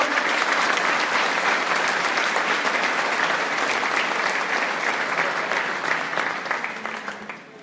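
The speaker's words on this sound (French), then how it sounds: "On peut les applaudir très fort, mesdames, messieurs, les vendeurs Valtra" An audience applauds the Valtra tractor sales team at a dealer presentation, long and loud crowd clapping that holds steady before tapering off at the end.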